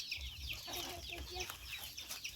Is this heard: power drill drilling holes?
no